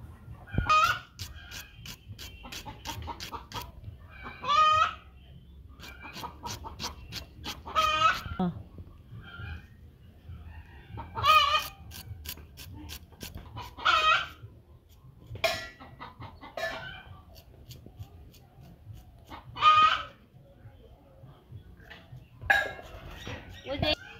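Village hens cluck after laying an egg, sounding loud, insistent cackling bursts that repeat every few seconds over a quiet rural backdrop.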